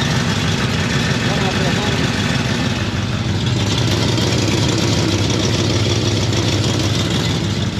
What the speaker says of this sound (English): we've been letting it idle for a while, getting it up to temperature